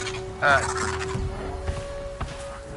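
A chicken-like creature in Horizon Zero Dawn gives a short gobbling, turkey-like call near the start, loud and close, then fades under steady game ambience.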